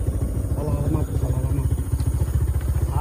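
A motorcycle engine runs close by on a village road among sugarcane fields, a steady rhythmic low chugging throughout with a voice talking over it.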